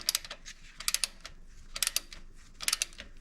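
Quick bursts of ratchet clicks from a 12mm socket ratchet tightening a bolt on a Hyundai Getz during a timing belt job, four short clusters of clicks spaced about a second apart, close and fairly quiet, with no talking.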